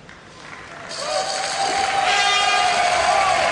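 A crowd at a karate team kata competition swelling into loud, sustained cheering and applause, building over the first second and then holding steady and dense.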